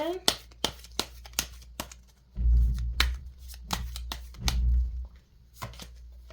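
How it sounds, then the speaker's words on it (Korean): Tarot cards are drawn and laid out, giving a run of sharp card snaps and slaps near the mic, with low thumps from handling on a surface partway through. "상대의 카드 또 한 장을 펼쳐보도록 하겠습니다"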